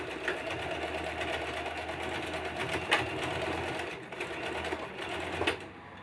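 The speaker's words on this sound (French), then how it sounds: "Piquez la base des poignets, faites plusieurs allers-retours afin de bien consolider la piqûre." A sewing machine hums close and continuously, stitching back and forth across the base of bag handles to reinforce the seam, with brief dips in speed between passes.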